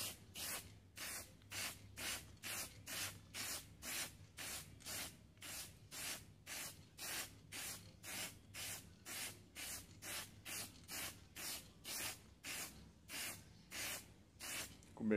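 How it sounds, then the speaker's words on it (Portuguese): A spray paint can lays white matte primer onto old wooden furniture drawers in a long even run of short hissing bursts, each a second or less apart. The sound is quiet and close, with no speech. "com uma lata de spray, consegui dar fundo em todas as gavetas"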